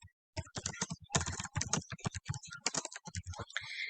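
Typing on a computer keyboard, close rapid bursts of clicky keystrokes in an uneven rhythm with short pauses, no talking.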